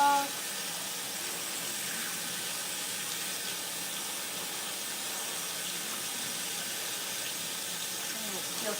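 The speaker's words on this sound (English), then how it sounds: "Rinse my hands off." Steady running tap water splashes over hands being rinsed at a sink during salad preparation, a soft, even hiss with no talking.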